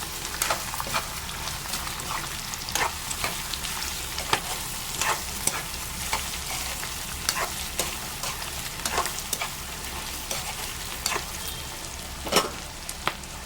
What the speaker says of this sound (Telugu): ఒక పప్పు ఇది కూడా బాగా ఫ్రై అవ్వాలి